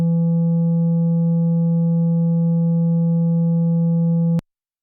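A Moog Mother-32 synthesizer with its VCA switched on drones a single steady, buzzy tone at constant loudness for over four seconds, then cuts off abruptly into silence.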